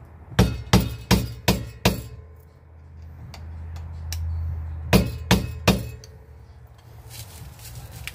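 A hammer strikes metal at close range while staking the axle nut notch on a Honda Accord CB7 rear hub: five sharp ringing blows, a pause with a low hum, then three more hits.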